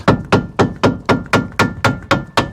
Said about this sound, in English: And now it requires is a hammer blow, and that should go straight in.